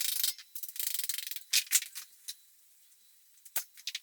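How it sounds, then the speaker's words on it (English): A hand ratchet clicks in quick bursts while loosening a motorcycle's rear axle nut during a flat tire repair, close and fairly quiet, with short pauses between runs of crisp pawl clicks. "Take the nut off and then the axle should slide right out."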